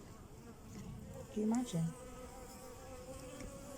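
Bees buzz steadily around a hive in the background, a thin hum of many wings, while a person briefly speaks over it.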